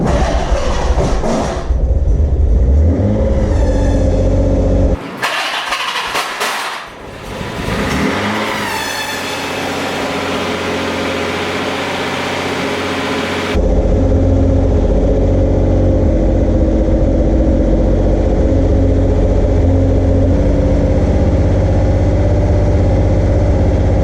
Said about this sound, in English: So let me start it up.